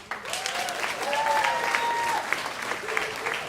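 A seated audience claps together in a hall during a talk, a dense, sustained burst of applause with a voice speaking faintly over parts of it.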